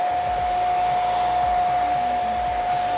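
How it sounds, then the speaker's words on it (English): A handheld blow dryer dries alcohol ink on Yupo paper with a loud, steady whirring roar and a constant high whine, running alone without pause. "we're going to use the blow dryer to dry this"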